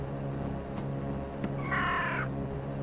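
A barn owl in a horror video game gives one harsh, raspy screech lasting about half a second, loud and close over a low droning background, preceded by a couple of faint clicks.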